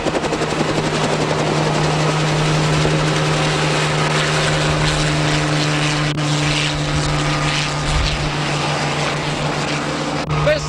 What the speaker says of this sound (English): here's the man who'll be piloting Newcastle's surf lifesaving helicopter